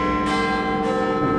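Castle bells in Hogwarts Legacy ring in a sustained, resonant peal, loud and continuous for a brief moment.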